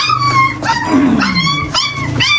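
A Bully Gutair puppy, freshly caught, gives high yips and thin whimpers in close, continuous bursts, loud and clear with no talk over it.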